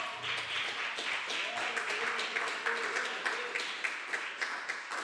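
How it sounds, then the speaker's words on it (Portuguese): A church congregation applauds together in steady, rhythmic clapping that fills the room at moderate volume for several seconds. "E vamos aplaudir o Senhor"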